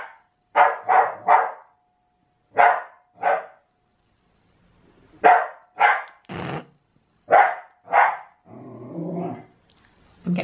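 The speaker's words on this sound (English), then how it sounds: "She's growling at her bone." A female dog growls and barks in short, sharp bursts over her bone indoors near a door, with several loud clustered vocalizations separated by brief pauses and a rougher, rumbling stretch near the end.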